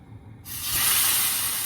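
Steak sizzles in a scorching hot cast iron skillet: a sudden loud hiss bursts in as the sous vide steak hits the pan, then holds as a steady, close crackling sizzle.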